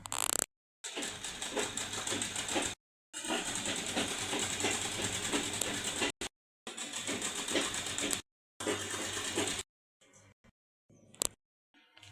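A sewing machine stitches around the round neckline of a katori blouse, running in steady close mechanical bursts separated by brief pauses, with the last few seconds nearly silent apart from a few faint clicks.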